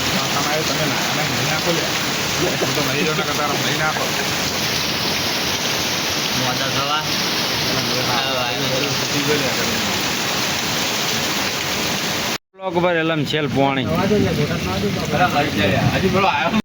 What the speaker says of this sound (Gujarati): ભરપૂર વરસાદ